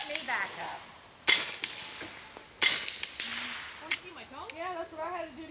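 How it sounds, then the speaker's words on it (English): A .22 rifle fitted with an AAC suppressor fires high-velocity rounds: three sharp, dampened cracks about a second apart outdoors, followed by faint chirpy background sounds. "Today we are shooting the AAC suppressor on a 6-hour 22."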